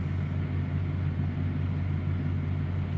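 A truck engine drones steadily from inside the cab while driving, a constant low rumble with no speech over it.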